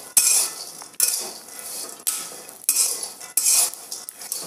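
Hot roasted peanuts being stirred in a pan, with repeated scraping and clinking strokes of a utensil in bursts about a second apart, close and fairly loud, no talking.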